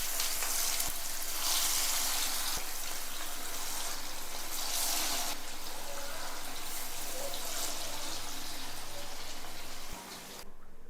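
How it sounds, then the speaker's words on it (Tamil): Pieces of fish fry in hot oil for a fish biryani, giving a continuous bright crackling sizzle that swells and eases slightly, then drops off abruptly at the very end. "இப்போ நம்ம இதே மாதிரி எல்லா மீனையும் ஃபுல்லாக பொரித்து எடுத்துக்குவோம்."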